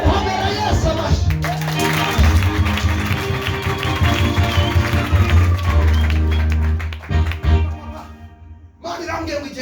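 At a church service, a congregation claps in a dense, rhythmic burst of hand claps mixed with voices and music, loud and close, fading near the end.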